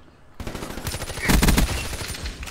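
Rapid automatic gunfire from a weapon in Black Ops 3, a dense burst of loud, close shots after a short quiet start, peaking in the middle and tapering off.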